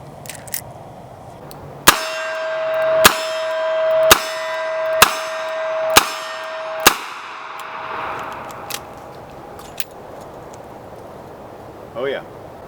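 Metal .45 ACP moon clips for an S&W Governor revolver clang with a bright ring, six sharp strikes roughly a second apart, followed by quieter rattling and a faint clink.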